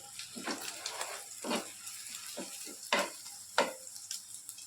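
An egg fries in hot oil in a pan, a soft steady sizzle with several brief louder crackling bursts from stirring or turning, no talking.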